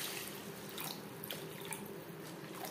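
Water pours steadily into a pan of small puti fish curry with onion and tomato over a gas flame, a continuous close splashing rush with no pauses.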